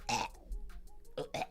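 A person burps during a live stream, a short guttural belch at the start followed by a couple of brief throaty sounds.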